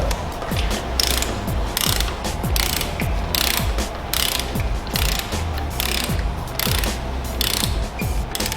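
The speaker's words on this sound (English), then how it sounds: "Kyle here is going to hold the cartridge while I go ahead and work the torque wrench." A torque wrench ratchets steadily while tightening a motorcycle suspension cartridge during a Legend AXEO install, with repeated clicking strokes in a regular rhythm, close and fairly loud, without talk.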